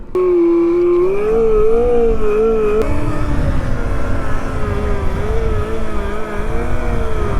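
A new electric motorcycle revs and accelerates into a wheelie, its motor letting out a loud, steady whine that wavers up and down in pitch over a constant rush of wind and road noise.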